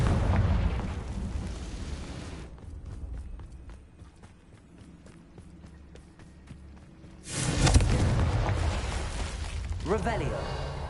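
A Confringo blasting spell explodes in Hogwarts Legacy, a sudden loud roaring burst that rumbles on for several seconds after quieter footsteps and ambience, with speech around it.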